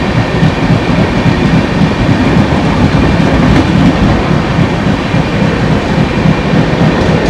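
The Sealdah–Bikaner Duronto Express passes close by in a loud, continuous roar of rushing coaches with wheels rumbling on the rails, and no voices are heard.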